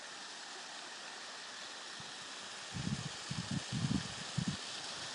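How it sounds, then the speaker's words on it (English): A park stream flows with a steady, soft rushing wash of water, faint and continuous throughout, with a few brief low rustles or footsteps in the second half. "There's a nice sound of water"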